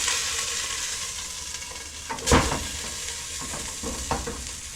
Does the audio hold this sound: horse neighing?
no